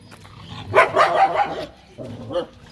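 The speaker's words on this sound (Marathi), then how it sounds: "फ्रेंड्स, या ठिकाणी पाहू शकता कुत्र्याची गँग" A gang of street dogs barks outdoors on a windy, overcast day, with a loud cluster of barks followed by a shorter, softer burst.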